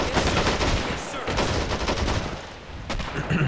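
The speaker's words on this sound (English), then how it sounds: "let's get our Johnson MG up" Johnson machine gun fire in the video game Men of War: Assault Squad 2, a dense, continuous rattle of automatic gunfire with overlapping battle shots, loud and sustained through the whole stretch, dipping briefly before resuming.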